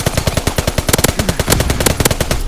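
Rapid automatic gunfire from the video game Call of Duty: WWII, played on Xbox One, forms a loud, close burst of rattling machine-gun shots that runs steadily through the whole moment.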